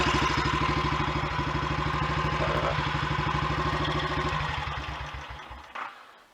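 A Royal Enfield Electra X motorcycle idles close by with a steady, even single-cylinder thump for several seconds, then shuts off and fades, followed by a short clunk.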